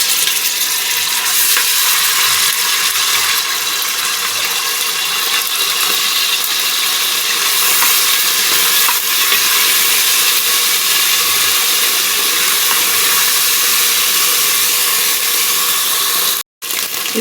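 Ginger garlic paste sizzling in hot oil while mutton liver fry is prepared, a loud, steady broadband frying hiss running continuously with a brief cutout near the end.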